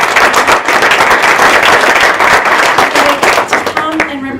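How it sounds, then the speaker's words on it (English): A quick round of applause at a public community forum, dense clapping filling the room at steady loudness before tapering off near the end. "can we give a quick round of applause?"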